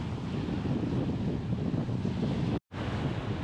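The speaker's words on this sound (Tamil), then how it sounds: "பீச் காற்று செமையாக அடிக்குது" Strong wind buffeting a beach near Rushikonda hill, a continuous low rumbling gust hitting the microphone alongside surf, loud and unbroken apart from one brief dropout near the end.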